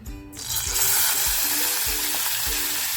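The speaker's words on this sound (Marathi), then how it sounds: "तेल आपलं छान गरम झालेलं आहे आता जो मी कांदा लसूण मिरची पुदिना आणि" Onion, garlic, green chili and mint drop into hot oil in a small pressure cooker, crackling into a loud, continuous close-up sizzle that holds steady throughout, with no voices.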